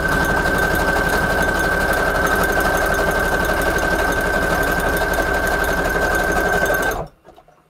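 A sewing machine stitches through junk journal pages in a fast, steady mechanical rattle, loud and close with a bright whine, running continuously for about seven seconds before stopping abruptly.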